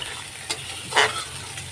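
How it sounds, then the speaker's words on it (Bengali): Fish curry with mustard oil spices sizzles softly in a pan as a spoon scrapes and stirs it, with two brief stirring strokes over a steady quiet frying hiss. "এখন আমি কষিয়ে নেব।"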